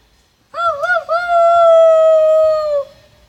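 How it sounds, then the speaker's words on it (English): A single loud, close howl, a wavering opening note that settles into a long sustained tone lasting about two seconds before trailing off, with no talk over it. "you may hear some howling happening."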